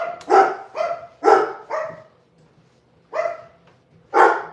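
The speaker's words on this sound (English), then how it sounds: "It's that time of the night where the dogs go nuts." Several dogs at home at night bark in short loud bursts, a pair of barks, another pair, a pause, then two more, close by with no talk.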